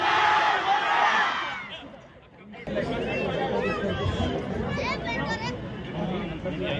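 A large outdoor crowd at a political rally in Bidar shouting back in response to a Nara-e-Takbeer call, a roaring mass of voices that dips, then surges again as a loud, sustained collective shout.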